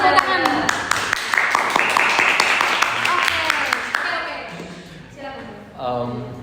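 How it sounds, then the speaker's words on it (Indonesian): During a student podcast recording, several people clap in a short burst of sharp, fairly close claps alongside laughter and overlapping chatter, then the clapping stops and talking carries on. "Tepuk tangan."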